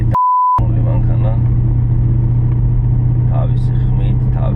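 An Audi S4 idling with a deep, steady engine rumble close by, a short electronic beep at the start, and someone talking over the running engine.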